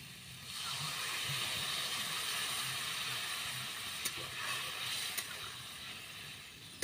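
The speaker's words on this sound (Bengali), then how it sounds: "জল দেওয়ার পরে ফুটতে থাকুক" Water added to a prawn curry heats toward a boil, giving a steady soft hiss and bubbling with a couple of faint clicks, low and continuous with no talking.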